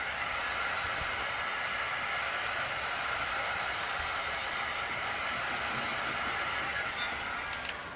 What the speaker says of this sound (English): Now I'm going to blow down and then out.